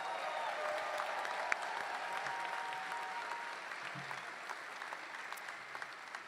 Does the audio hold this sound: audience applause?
yes